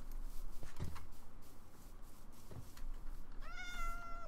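A Minecraft cat gives one clear, close meow near the end. Soft game clicks and thumps come before it, and no one speaks.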